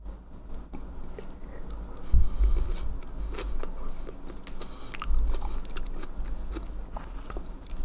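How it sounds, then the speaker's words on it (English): A couple of grapes being chewed close to the microphone, soft wet crunching and squishing bites with two heavier bursts, fairly loud and with no talking. "I am chewing a couple of grapes"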